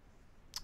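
A single faint, quick click of a computer mouse, briefly followed by a soft low tap, heard alone against quiet room hiss.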